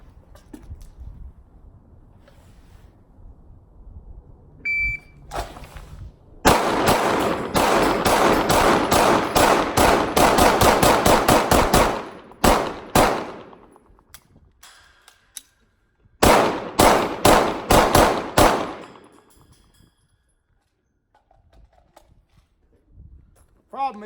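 Rapid strings of Glock 17c Gen 4 pistol shots ring out at a target, loud and close. Two long volleys of sharp cracks run with brief pauses between them.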